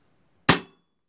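A single sharp shot from a Weihrauch HW 45 air gun at its first power setting, a sudden crisp crack that decays quickly, close by with silence before and after.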